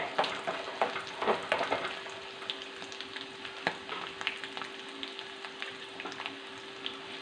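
Curry leaves fry in oil for a homemade rasam, crackling with a quiet continuous sizzle and scattered pops and scraping stirs, close up and fairly soft.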